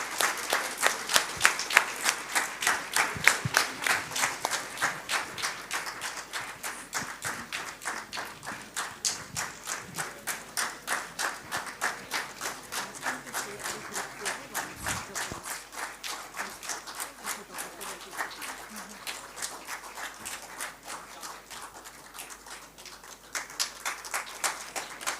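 An audience at a tech competition finale applauding after an award is announced, sustained rhythmic clapping from many hands that holds steady for a long stretch, with faint voices underneath.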